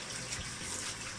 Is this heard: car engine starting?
no